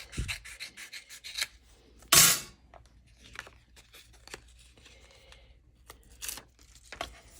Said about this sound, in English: I'm going to get my snips, And I am going to cut a little bit of this.